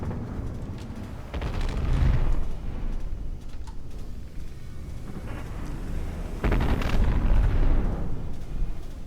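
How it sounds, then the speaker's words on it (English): Explosions and artillery fire in a battleship video game battle, heard as continuous rumbling booms that swell loudly around the start and again near the end, with no speech. "There's a lot of explosions."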